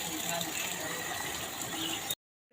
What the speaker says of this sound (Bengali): পাতা ভালো করে ধোয়া হচ্ছে